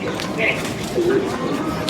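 Soft low cooing of pigeons at a pigeon house, a couple of murmuring calls amid a busy room with voices talking in the background.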